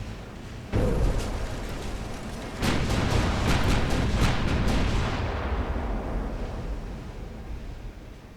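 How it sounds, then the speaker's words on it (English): A torpedo strikes the German battleship Schleswig-Holstein in a naval combat game: a sharp blast at about one second, then a second heavier boom with rapid crackling bursts, fading into a long rumbling roar. "Another torpedo coming at the Schleswig-Holstein. I think it's going to hit me in the exact same spot"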